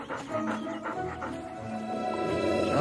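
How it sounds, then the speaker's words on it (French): A dog whimpers and whines softly, with high, wavering cries and some panting close by in a quiet indoor setting. "Gentil chien."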